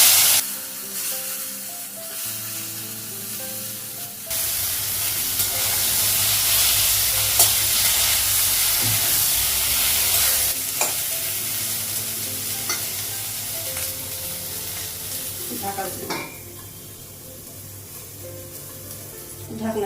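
Eggplant sizzles steadily in hot oil with turmeric in a home kitchen, with stirring and scraping sounds on top, the frying growing louder and denser after the first few seconds and continuing without speech.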